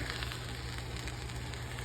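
Steady frying sizzle of steak in a hot pan, a continuous crackling hiss with a low hum underneath, no voices.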